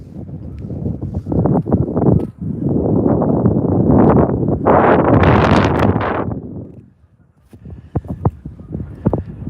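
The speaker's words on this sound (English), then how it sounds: "every now and then the wind is blowing" Gusts of wind during a snowstorm at Middle Creek Wildlife Management Area buffet and roar across the microphone, swelling for several seconds before dropping away to scattered rustles and knocks.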